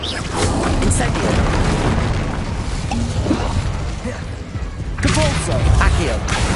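An Incendio fire spell cast in Hogwarts Legacy erupts in booming, crackling bursts amid layered game effects, with a second loud flare near the end, while other spell sounds mix underneath.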